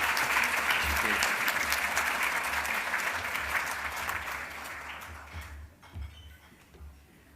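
An awards-ceremony audience in a hall gives a dense, sustained round of applause that starts full and loud and gradually fades over about six seconds into quieter scattered clapping.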